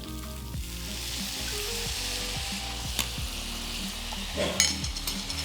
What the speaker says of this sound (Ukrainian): Тепер нам треба трішечки її також підсмажити для пирогу